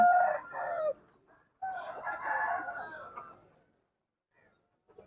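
Roosters crow loudly and close by at a country chicken market, two long crows with a short gap between them, then near silence apart from a faint sound at the end.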